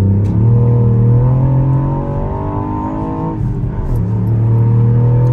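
A new car's engine in sport mode hums loudly from inside the cabin, its droning pitch climbing and easing as the revs rise and settle.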